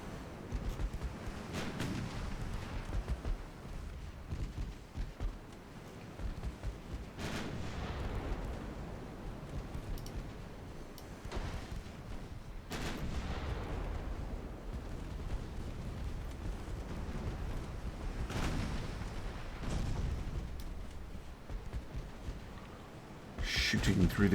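Pre-dreadnought warship gunfire in a naval battle game, with deep booming salvos recurring every few seconds over a rumbling low background, while a voice talks at intervals.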